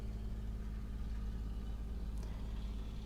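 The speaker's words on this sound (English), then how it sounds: "We have a bit of a truck passing us, so there's a car behind us." A car engine runs steadily behind a safari vehicle, a continuous low rumble at moderate distance with no talk over it.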